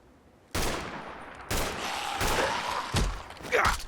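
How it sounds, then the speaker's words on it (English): Gunshots from the video game Fallout 4: a short silence, then sharp loud bursts of fire at intervals, with rattling echoes and impacts filling the gaps between shots. "I'm just shooting at you"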